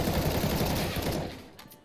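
Gunshots in CS:GO, a dense, rapid rattle of firing that fills the first second before fading away into near quiet.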